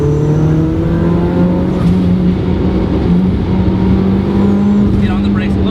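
A boosted 300 hp Mazda Miata engine pulls hard in third gear, its loud close-up drone climbing steadily in pitch with a whiny harmonic layer, while someone talks over the engine noise.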